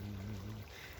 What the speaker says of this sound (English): Just the water running and flowing behind me is making a sound